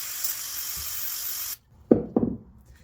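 Carburetor cleaner sprays from an aerosol can onto wood stain on concrete in a steady hiss of about one and a half seconds, then stops, followed by two close knocks.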